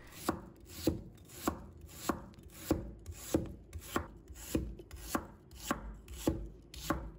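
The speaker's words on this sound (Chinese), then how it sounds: "再准备半个洋葱，把它头尾切掉不要，再切成细丝。" A knife chops half an onion into thin strips on a board, a steady run of about a dozen crisp, evenly spaced cuts, close and clear with no talking.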